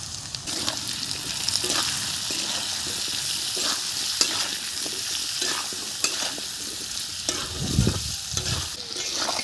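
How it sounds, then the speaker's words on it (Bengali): Diced potatoes fry and sizzle steadily in hot oil with salt, turmeric, dried red chilli and five-spice tempering, a spatula scraping and stirring them in short repeated strokes close up, with no talking. "আলু ভাজা হয়ে গেছে,"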